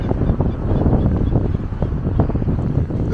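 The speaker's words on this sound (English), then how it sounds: "A little bit windy again now." Strong gusts buffet the microphone on an elevated walk in central Blackpool near North Pier, producing a constant low, rough rumble that fills the whole stretch without any clear talking.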